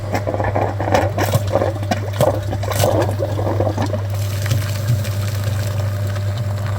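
A flushing machine pumps water through the heater radiator of a Land Rover Discovery, giving a steady mechanical hum with gurgling, sloshing liquid and rattly bursts that ease into a smoother flow, loud and close.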